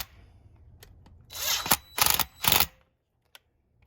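Muffler bolts on a Stihl 046/MS460 chainsaw are driven tight with a power driver in three short whirring bursts, close by, with no talking.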